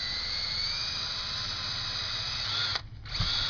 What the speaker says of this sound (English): we just take a 1/4-inch drill bit, and we're going to just drill that plastic into that plastic button right